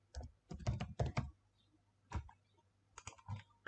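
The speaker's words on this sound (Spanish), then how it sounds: "Ponemos una contraseña." Typing a password on a computer keyboard, quiet close key clicks in short irregular bursts separated by brief pauses.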